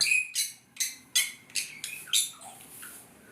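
Several birds in an aviary chirp in a series of quick, bright calls, about eight bursts spaced roughly every third of a second, fairly faint against a quiet background with no voices.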